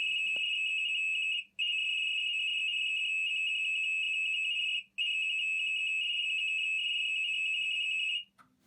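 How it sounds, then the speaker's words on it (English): An LG Mega Capacity front-load washer emits its diagnostic data tones: a loud, steady high-pitched beeping tone held in three long stretches separated by two short breaks, with no other sound around it. "starts playing the sound that will send the data to the app"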